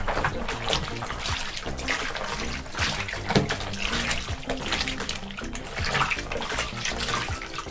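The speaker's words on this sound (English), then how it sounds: "submerge it into the water and kind of zhuzh it around." Scuba gear, a neoprene wetsuit, is swished around in a tub of water mixed with BCD cleaner, giving continuous sloshing and splashing at close range with no talk.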